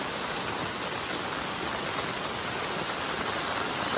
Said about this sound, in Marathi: पाऊस पण जोरदार चालू झाला बघा परत